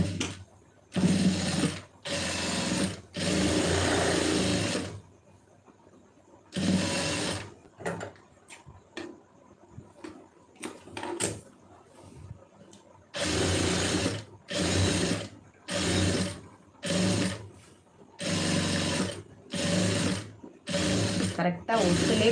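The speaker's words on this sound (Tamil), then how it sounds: "இப்போ இதில் அப்படியே ஒட்டில் வந்து ஒரு தையல் போட்டுருங்க." Sewing machine stitching a lining piece along its edge, running in repeated close bursts of steady whirring separated by quiet pauses filled with small handling clicks.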